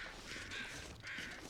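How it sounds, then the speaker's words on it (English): Crows cawing in the survival video game The Long Dark, two harsh drawn-out caws in succession, moderately distant over a soft wind-like ambience. "I saw movement and I heard crows shouting"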